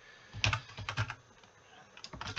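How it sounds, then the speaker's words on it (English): Keys clatter on a computer keyboard as a short request for crypto token code in Solidity is entered, a few separate taps, then a dense run of quick strokes near the microphone with no talking. "So I'm going to start typing something like, create a crypto token in Solidity"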